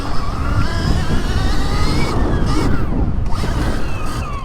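A Stark Varg electric dirt bike accelerates hard nearby, its motor whine climbing in pitch over a steady rush of wind and knobby-tire noise, continuous for several seconds.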